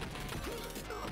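Dense, continuous action from the Mega Drive game Demolition Man, with layered crashing explosions and rattling mechanical bursts, loud and busy throughout with no pauses.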